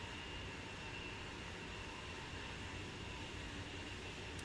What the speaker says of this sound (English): Man, we are booking in this train, man.